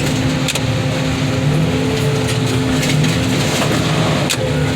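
A minivan engine runs loud and close, holding a steady droning hum with slight surges in pitch throughout, with no voices over it.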